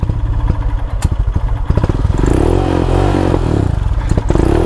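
A Royal Enfield motorcycle engine revs up close on a green lane, its pitch climbing and falling, with rattling clatter and thumps from the bike over rough ground.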